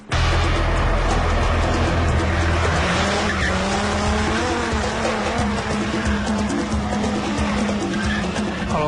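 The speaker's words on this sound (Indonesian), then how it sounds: "Seakan pembalap profesional, drifter ini lihai bermain di balik kemudi." A car drifting on a city street at night during illegal street racing, its tires squealing loudly and continuously over a roaring engine, with some crowd noise behind.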